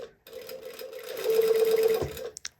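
A sewing machine top-stitches binding with contrasting thread in one steady, whirring run of about two seconds, close and fairly loud, stopping abruptly with a couple of quick clicks after.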